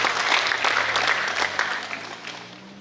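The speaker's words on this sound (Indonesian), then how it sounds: "mari kita mau sama-sama berikan aplaus sekali lagi buat beliau" An audience applauds Pastor Albert Arina at an intercultural student camp, a burst of close clapping from a crowd that holds steady and then fades away.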